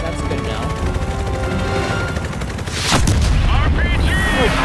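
Gunfire and a heavy RPG blast in the Call of Duty Black Ops Cold War campaign, with a loud boom near the middle followed by sustained shooting and clattering effects over a dense game soundtrack.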